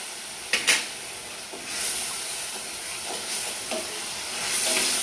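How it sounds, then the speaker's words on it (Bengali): Onions frying in a pan while being stirred: a constant steamy sizzle broken by several sharp scraping stirs, with the hiss swelling louder near the end. "পেঁয়াজটা আমি ভালোভাবে নেড়ে ভেজে নেব।"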